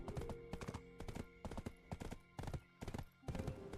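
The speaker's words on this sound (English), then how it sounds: "My whole entire experience trying to ride my horse." Horse hooves clip-clop in a steady, busy rhythm as a mount is ridden in the Black Desert Online video game, the hoofbeats loud and close with short gaps and no talk.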